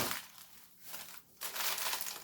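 A plastic bag of candies crinkles in close-up bursts, rustling loudly, pausing briefly twice, then crackling again.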